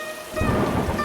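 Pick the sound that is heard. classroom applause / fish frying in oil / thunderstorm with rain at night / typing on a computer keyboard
thunderstorm with rain at night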